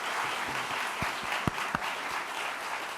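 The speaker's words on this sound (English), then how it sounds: "That deserves a round of applause." Spectators at a national geography bee final competition applaud in a full, continuous burst of clapping, with a few sharp louder claps standing out near the middle.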